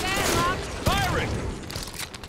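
Gunfire bursts in Halo 5: Guardians, sci-fi shooter combat, with a sharp shot near the middle amid a dense battle mix, mostly obscured by overlapping voices and in-game chatter.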